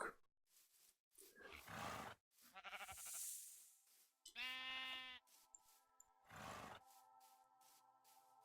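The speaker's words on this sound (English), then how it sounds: "Hello, sheep." Several sheep in the Minecraft video game bleat in short, separate calls with gaps between them, each one clear and fairly loud. No voices are heard.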